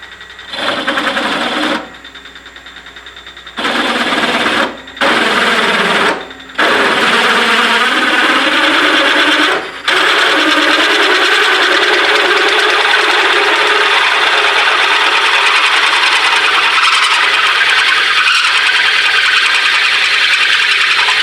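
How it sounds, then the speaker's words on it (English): A 1-inch drill bores a hole for a Toyota Tacoma Gen 1 steering upgrade, starting and stopping in short loud bursts before settling into a long continuous whining cut. "this is a 1-inch drill"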